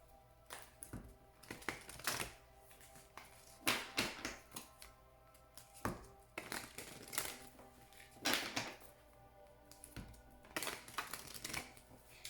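Oracle cards being shuffled by hand in a quiet room: repeated crisp riffling bursts and taps come in irregular clusters every second or two, close and fairly soft, with no talking over them.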